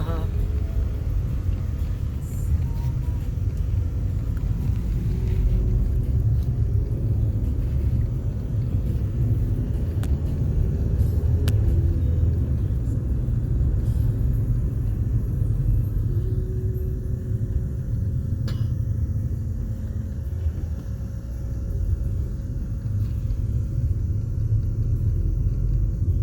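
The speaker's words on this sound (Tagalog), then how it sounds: "Yan ang traffic." Heavy city street traffic in BGC, a constant low rumble of passing cars heard from inside a vehicle, with occasional faint clicks and people talking intermittently.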